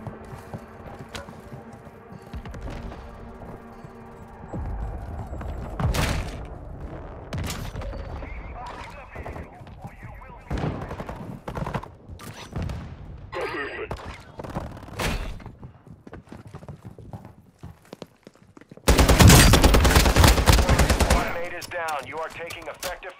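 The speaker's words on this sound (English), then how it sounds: "You are taking effective fire." Incoming machine-gun fire in Call of Duty: Modern Warfare II, scattered sharp shots and short bursts building to a loud, dense volley near the end, with occasional voices between.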